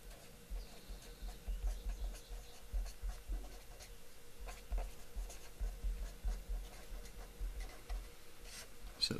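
A pen scratches and taps as a diagram of kidney capillaries is drawn during a lecture, soft irregular rubbing strokes and light knocks close by, faint throughout with no speech.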